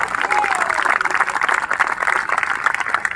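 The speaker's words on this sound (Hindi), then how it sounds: "ये तालियां इसरो के लिए मैंने इसलिए बजवाई है" A packed college lit fest audience at Ramanujan College applauds loudly for ISRO, a thick, sustained wash of clapping with some cheering.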